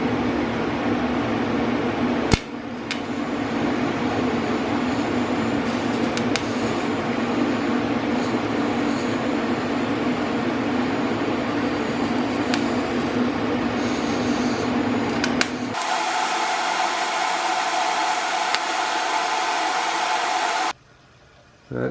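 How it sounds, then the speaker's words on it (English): A TIG torch melts metal into a mushroom while building a ceramic ball mill, a steady loud hiss and roar lasting about twenty seconds that shifts to a thinner buzz near the end before cutting out. "I'm just going to take the TIG torch to that and I'm going to melt that down into a mushroom"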